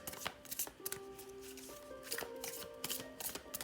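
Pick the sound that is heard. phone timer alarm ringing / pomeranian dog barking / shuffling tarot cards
shuffling tarot cards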